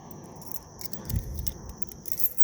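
The original keys of a 1968 Pontiac GTO 400 HO give a faint, soft jingle near the open trunk, a light metallic rattle over a low background hum.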